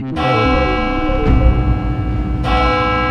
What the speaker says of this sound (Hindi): घंटी बजी।